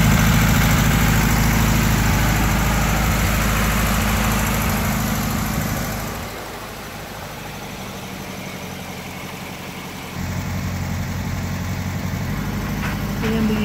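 A 1971 VW Type II bus engine idles while warming up in the rain, a steady low rumble that softens partway through and then picks back up, with no talking.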